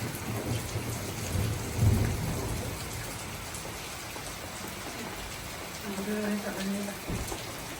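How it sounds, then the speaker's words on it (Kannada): Thunder rolling during a sunny-day rain shower in Chandrayapatna, with low rumbles swelling at the start and again near the end over a steady hiss of falling rain. "ಓ ಗುಡುಗು ಬರ್ತಾ ಇದೆ"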